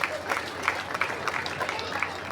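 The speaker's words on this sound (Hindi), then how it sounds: "उनका भी ताली बजा के स्वागत है।" Audience at a religious darbar gathering clapping in welcome for arriving guests, a steady spread of hand claps at moderate distance, fairly faint and continuous throughout.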